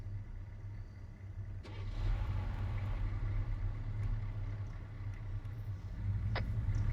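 A vehicle drives along with a low, steady engine rumble and road noise from inside the cabin, fairly quiet, with a few light clicks and no talking.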